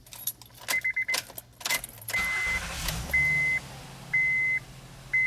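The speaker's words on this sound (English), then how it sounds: "Okay, so now let's start the engine." Keys jangle in a Honda Pilot's ignition, then the engine cranks and catches into a steady idle while a dashboard chime beeps repeatedly at intervals.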